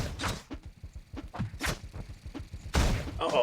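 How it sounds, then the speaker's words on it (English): Rapid blasts from a shotgun in the top-down shooter game Teleglitch, several punchy booms over a dense stream of quick thumps and impacts, with a larger burst near the end. "We're going to use the shotgun to deal with them"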